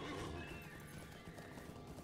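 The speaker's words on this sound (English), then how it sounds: "Take the taxi horse to Esteldon." A taxi horse in Lord of the Rings Online whinnies and trots, with hooves clip-clopping under a dense, steady layer of game music and ambience.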